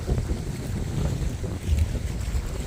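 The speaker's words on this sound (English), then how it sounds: "Wind's kicking up." Gusty wind buffeting the microphone in the Allegheny National Forest on a rainy backpacking day, a loud, rough, continuous low roar with no talking.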